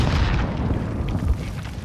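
A C4 charge detonating in an online shooter match, a heavy low rumbling boom that fills the moment and fades slowly.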